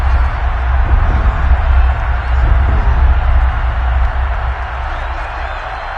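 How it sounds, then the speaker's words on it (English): Stadium crowd in a Madden football video game cheering as a steady, loud roar of many voices that swells and then eases slightly toward the end. "That just means this crowd's going to get even louder"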